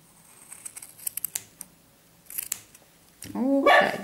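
Scissors snip through a crocheted rectangular piece, giving a quick run of close, sharp clicks and cuts, followed by a brief louder rustling burst.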